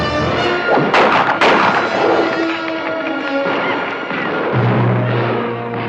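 Gunfire in a western film: a few loud sharp shots and thuds crack out early, followed by dense layered shouting and action sound, with a low tone rising near the end.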